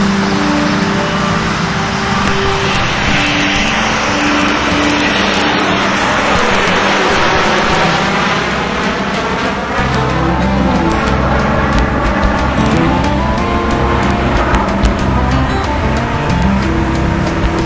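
A jet airplane passes over the end of runway 22 at LaGuardia Airport in East Elmhurst, Queens, its loud roaring engine sustained and close, with a sweeping pitch shift as it flies overhead.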